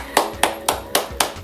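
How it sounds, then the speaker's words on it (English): A single person claps hands at a steady, even pace, five sharp close claps in quick succession. "Applaud."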